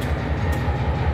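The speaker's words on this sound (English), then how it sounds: "That's our number one locomotive" An SD40-2 diesel locomotive at a U.S. Steel plant, its air compressor drive shaft broken, runs with a steady, close, heavy mechanical rumble and no breaks.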